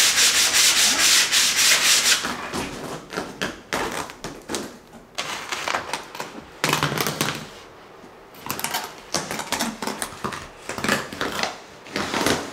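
Fresh sandpaper rubbed by hand during a home makeover paint job, a close rasping scrape in repeated strokes of uneven length, sometimes in short bursts with brief pauses, and no talking.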